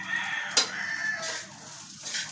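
Pet chickens on a farm cluck and crow in a short, fairly faint burst, with a brief louder squawk partway through.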